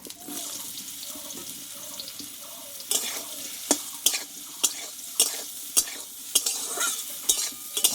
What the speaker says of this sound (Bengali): এইবার এই তেলে আমি সোয়াবিনটা একটু কষে নেব হালকা করে সোয়াবিনগুলোকে দিয়ে দেবো